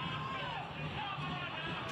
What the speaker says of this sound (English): Crowd urging the home side on.